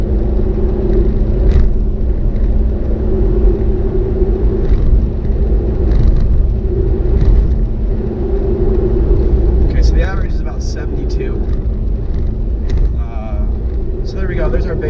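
Steady low road rumble and tyre roar fill a car cruising downhill at 50 mph, a constant drone that stays loud throughout, with a voice talking briefly near the end.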